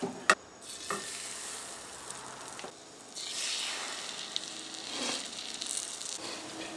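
Butter sizzling gently in a pan over fairly low heat before french toast goes in, a faint steady hiss with occasional soft clicks and swelling bursts of frying, close and quiet.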